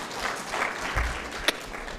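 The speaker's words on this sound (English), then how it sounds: "Let's clap for him." Audience applause at the PELUM Uganda agroecology regional summit, a steady wash of clapping from a hall crowd lasting the whole moment, moderately loud with one sharper clap standing out near the end.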